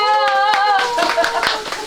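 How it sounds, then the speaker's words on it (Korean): Brief burst of hand clapping from a small group at a retirement party cake-cutting, mixed with voices and a sung or sustained tone over the top. "박수 치세요."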